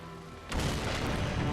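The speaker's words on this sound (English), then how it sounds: "Explosion." Shadow Bomb detonating in Darksiders II, a sudden booming burst that breaks in after a quiet moment and rolls on as a dense, sustained rumble.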